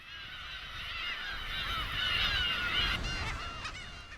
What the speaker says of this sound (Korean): 고양이 울음소리를 가진 새, 괭이갈매기다.